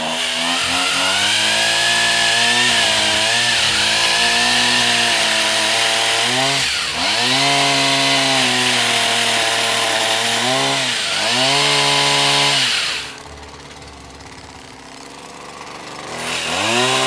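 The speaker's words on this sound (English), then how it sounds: "Shindell multi-tool, and it's got a pole pruner, a pole saw attachment with it" A Stihl multi-tool pole saw attachment runs loud and close in a garden, its small two-stroke engine revving up and down in repeated surges as it cuts branches, then idling back before revving again.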